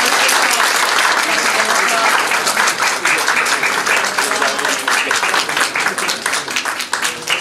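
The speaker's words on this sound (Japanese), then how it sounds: "皆さん、拍手をお送りください" Applause from the press at a stage-play opening-day press conference for PLUTO, a loud, dense, sustained clatter of many hands that thins slightly toward the end.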